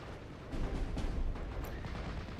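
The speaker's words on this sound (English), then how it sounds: "they almost get caught up in the barrage" Artillery barrage in a World War II battle video game, a dense continuous rumble of distant booms and blasts swelling briefly, heard alone without voices.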